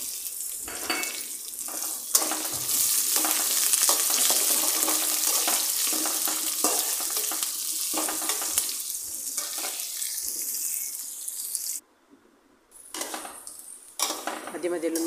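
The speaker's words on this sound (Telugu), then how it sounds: "ఆనియన్స్ గోల్డెన్ కలర్ వచ్చే వరకు ఫ్రై చేసేసుకోవాలి." Onions fry in a pan for a Rayalaseema-style ridge gourd curry, with a loud, continuous close-up sizzle and occasional stirring scrapes that briefly cut out near the end.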